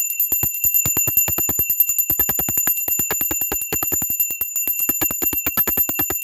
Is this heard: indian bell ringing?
yes